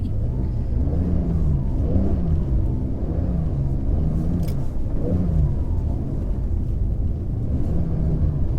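Porsche 993 rally car sliding on spiked tyres across ice in Finland, engine revs rising and falling in repeated waves over a heavy continuous rumble, heard from close by with no talk.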